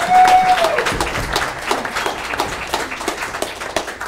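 Audience clapping at a township committee meeting, a sustained, moderately loud patter of many hands in a room, with a brief tone near the start.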